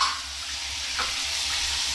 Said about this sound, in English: you can actually hear it when it starts to start backing up on the drain